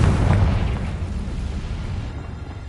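A Confringo fire spell explodes in the video game Hogwarts Legacy, a loud low boom with a burst of rumbling debris that fades over about two seconds and has no speech over it.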